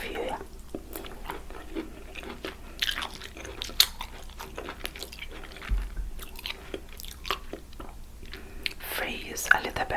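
Close-up chewing and biting of air fried vegan tofu with rice and stir fried vegetables, soft crunches and wet mouth sounds recurring steadily, with quiet whispering in places.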